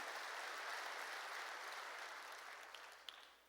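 Congregation applauding at a Korean New Year's Eve church service, a steady dense wash of clapping that gradually thins toward the end, with a couple of sharper claps standing out near the close.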